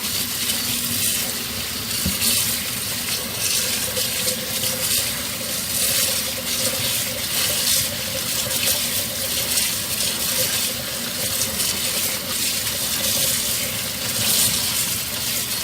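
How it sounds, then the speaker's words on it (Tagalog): Cooked spaghetti being rinsed under a running kitchen tap, a steady, loud rush of water splashing into a sink that continues without pause, with occasional faint knocks and no talk over it. "Kailangan hugasan natin mabuti para hindi na magdikit-dikit."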